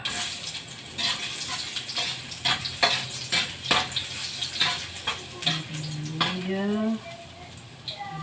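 Ginger sizzling in hot cooking oil for Filipino pininyahang bangus, bursts of frying crackle and stirring scrapes, with a voice talking intermittently over it.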